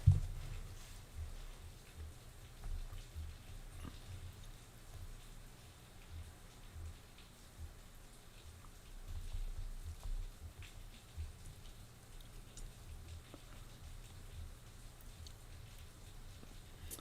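Steady rain falls in a soft, constant hiss, with occasional faint drops tapping nearby; no voices.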